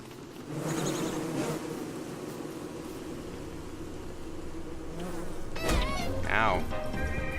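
Killer bees in the video game Don't Starve drone in a steady insect buzz throughout, joined by short sharp game effects and warbling tones near the end, with a quiet voice beneath.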